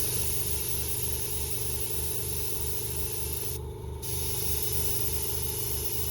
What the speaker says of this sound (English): if you spray like on an angle across the part instead of directly on it